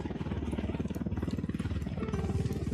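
An enemy patrol helicopter in Ghost Recon Wildlands thrums with a fast, steady rotor chop. It is close and fairly loud and continues throughout with no speech.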